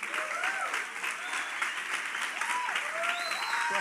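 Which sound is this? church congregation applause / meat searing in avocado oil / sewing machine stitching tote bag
church congregation applause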